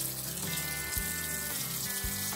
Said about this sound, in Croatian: A u jednu šerpicu sipati vodu